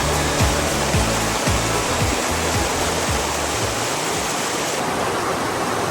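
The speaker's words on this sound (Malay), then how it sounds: "sekarang kita berada di sungai" The Sungai Sedim river flows in a loud, steady rush of water, close and continuous, with no one speaking.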